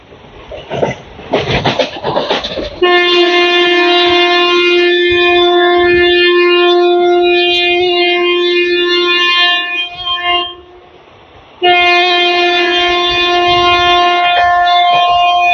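Howrah Rajgir Express train running, its loud sustained horn sounding for several seconds, cutting off briefly and then blaring again, over rumbling rail noise.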